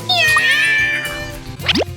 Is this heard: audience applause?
no